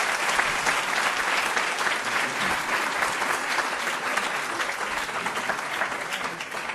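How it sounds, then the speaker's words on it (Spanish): A seated audience at an international literature-teaching panel gives the professors a final round of applause: sustained, even clapping from many hands that holds at a moderate level throughout, with no voices breaking through. "un aplauso final para nuestros profesores"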